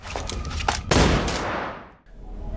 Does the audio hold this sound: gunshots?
yes